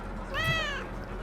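A cat in the video game RoboCop: Rogue City gives a single short, clear meow, moderately close, over faint background ambience.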